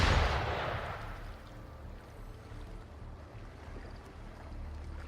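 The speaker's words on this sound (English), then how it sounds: "Gunfire!" Video game gunfire in Wuthering Waves: a heavy boom rolls out at the start and fades into a low, rumbling wash with distant muffled gunfire under it.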